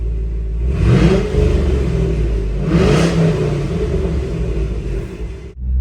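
A Chevrolet SS engine with a one-piece exhaust revs hard twice through a loud exhaust, rising and falling, over a steady low rumble before cutting off at the end.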